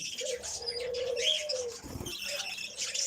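Budgerigars in an aviary chatter and chirp while feeding their chicks, a busy mix of close, bright warbling calls and squeaks with a soft flutter of wings partway through.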